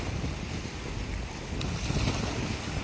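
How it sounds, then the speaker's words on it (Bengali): Strong wind roars and buffets the microphone in a continuous rush, with surf churning underneath; no voices. "এই যে দেখেন প্রচুর বাতাস।"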